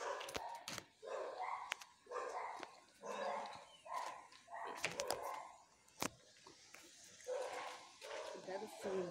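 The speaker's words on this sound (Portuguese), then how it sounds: "Esses cachorros ali vêm e ficam latindo." Repeated bursts of dog barking, several dogs at a moderate distance, with people talking intermittently between and over the barks.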